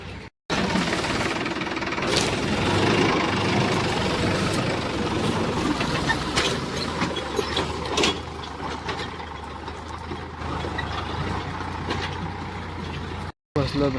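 A tractor engine runs steadily in a field during plowing, a continuous low mechanical drone with clanks and knocks over the top, while people talk throughout.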